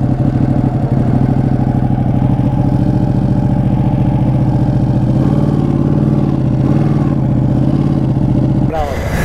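A Ducati Panigale motorcycle engine idles steadily up close, a loud continuous low rumble with a faint rev near the end, while someone talks over it.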